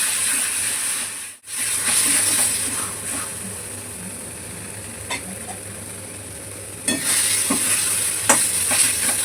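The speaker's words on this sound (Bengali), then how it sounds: "আবার ভালো করে কষিয়ে নেব।" Food sizzles loudly in a pan as it is stir-fried, a continuous close hiss broken by a brief pause near the start and sharper scraping strokes of the spatula later on, with no voices.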